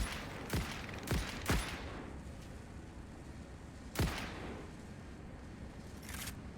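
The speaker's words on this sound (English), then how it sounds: "The gun sounds different too." A gun firing in the factory-building game Satisfactory: five separate sharp shots, three in quick succession, then one and a fainter last shot, over quiet background.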